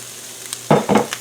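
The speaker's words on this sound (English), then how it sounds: "If you don't hear the sizzle, get it out of the pan." A short burst of frying sizzle after a brief quiet moment, with two quick crackling surges of onions stirred in a hot pan.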